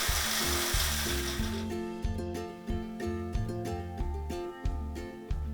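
Dried chillies whir in an electric spice grinder in a kitchen, a short dense grinding burst at the start before steady music takes over.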